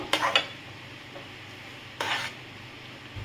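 Ripe mango barfi mixture being stirred in a pan over medium heat, with two brief scraping strokes against the pan and a faint sizzle between them, quiet and close.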